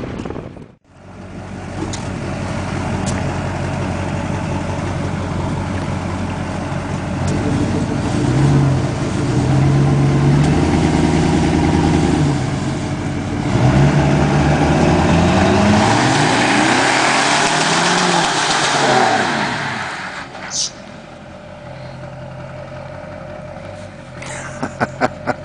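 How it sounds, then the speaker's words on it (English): A loud pickup truck engine with aftermarket exhaust idles, then revs and pulls hard for several seconds during a truck pull before dropping off, with a few sharp knocks at the end. "The only thing I got is exhaust, so it'll at least sound nice."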